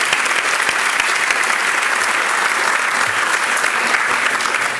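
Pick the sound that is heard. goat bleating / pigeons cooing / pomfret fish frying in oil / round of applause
round of applause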